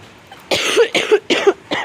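A person coughs four times in quick succession, close and fairly loud, each a short harsh burst.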